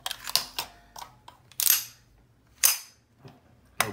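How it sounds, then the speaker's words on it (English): A Browning Hi Power pistol being cleared: a sharp metallic click and clatter as the magazine drops free, followed by several further crisp clacks and handling knocks, close and with no talk. "We'll drop the magazine."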